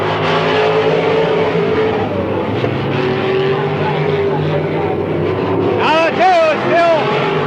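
Race cars roaring around the oval at Midvale Speedway in 1995, a steady loud engine drone with a car whining past near the end, heard under ongoing announcer commentary.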